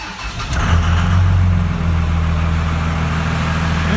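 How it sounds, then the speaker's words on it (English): A Cummins diesel truck cranks briefly on its starter, then fires and settles into a steady, loud, low idle close by on a cold morning of about 28 degrees, with an intake grid heater fitted. "the starter definitely sounds different on this truck"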